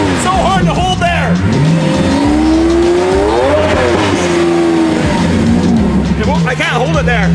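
Straight-piped Lamborghini Aventador, muffler deleted, held at raised revs: a loud, continuous exhaust roar whose pitch climbs, wavers and settles as the throttle is held steady near the car.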